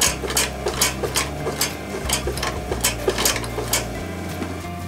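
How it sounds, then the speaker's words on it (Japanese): A sewing machine stitches through the foam calf padding of a ski boot during a repair, making a rapid, regular mechanical clatter of needle strikes over a low motor hum, close up and with no voices. "スポンジにミシンが入っても大丈夫は大丈夫なんですが、そこが硬くなるんですね。"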